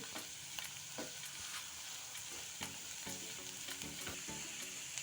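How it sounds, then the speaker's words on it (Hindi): Kashmiri red chilli powder and coriander powder cooking in a pan for matar malai paneer, a soft steady sizzle with light, regular scraping strokes of a spoon, quiet and close with no talking. "कश्मीरी लाल मिर्च पाउडर 1 छोटी चम्मच, 1 छोटी चम्मच धनिया पाउडर, इन सबको थोड़ी देर पका लेंगे।"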